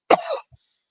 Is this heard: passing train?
no